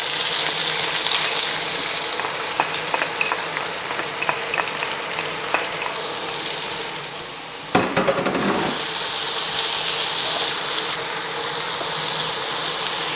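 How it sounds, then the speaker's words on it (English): Onion and curry leaves frying together in a pan for a hot chicken curry, a steady close hiss and crackle throughout with a brief stirring clatter midway. "I'm going to fry the onion first with the curry leaves all together"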